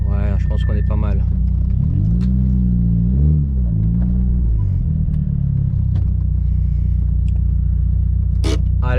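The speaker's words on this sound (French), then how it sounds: "Je vais me garer quelque part, tranquille, pour te parler." A car engine idles at low, steady volume while the car is parked on a quiet spot near the Sea of Japan, humming continuously under someone speaking throughout.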